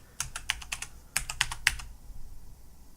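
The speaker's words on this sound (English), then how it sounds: "So I enter my password, and I hit sign in" Fingers type a password on a computer keyboard, two quick bursts of crisp close keystrokes with a brief gap between them, then quiet.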